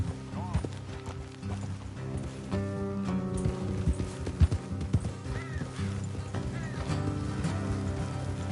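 Horse hooves trotting on a road in the video game Red Dead Redemption 2, a steady clip-clop rhythm under game music and ambience, with a brief whinny.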